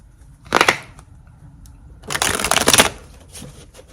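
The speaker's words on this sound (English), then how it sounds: "I want a couple more shuffles." Tarot cards being shuffled up close in two quick riffling bursts, a short one followed by a longer, louder one, with quiet pauses around them.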